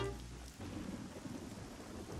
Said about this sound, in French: Il ne pleut sûrement que depuis un jour ou deux, mais j'ai l'impression que ça fait des semaines.